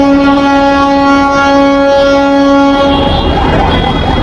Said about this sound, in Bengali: ট্রেন একটা যাইতে না যাইতে আরেকটা চলে আসে